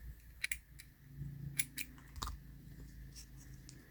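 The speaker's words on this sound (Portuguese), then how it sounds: "vamos cortar o fio." A few quiet snips of scissors cutting crochet thread on a baby sandal, short and close, with light handling noise between cuts and no talking.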